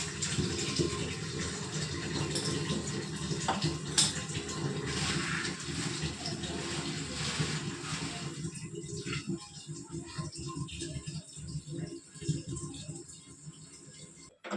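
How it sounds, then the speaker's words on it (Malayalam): Water pours into a vessel holding fish in a home kitchen, a steady rushing gush for about eight seconds that gives way to quieter, intermittent splashing and trickling. "നമുക്ക് ആ മീനിൻ്റെ അകത്തേക്ക് കുറച്ച് വെള്ളം ഒഴിച്ച് മാറ്റി വയ്ക്കാം"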